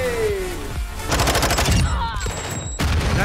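A rapid burst of automatic gunfire rattles out in a video game, close and loud over game sounds and an electronic tone, with someone talking over it.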